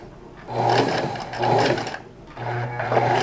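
A sewing machine stitches T-shirt fabric in three short runs of whirring, rapid needle clatter. Brief quiet pauses separate the runs, and the machine sounds close with no talking.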